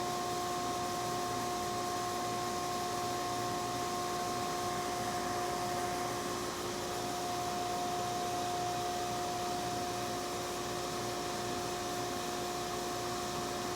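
A sandblaster carves stone at around 60 psi, a constant loud hissing roar of air and abrasive that holds steady with a faint tonal whine and no talking.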